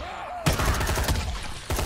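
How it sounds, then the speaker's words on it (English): Gunfire in the zombie video game Dying Light: a sudden loud burst of rapid shots starts about a quarter of the way in and keeps firing, with a second loud burst near the end. "I hear gunshots."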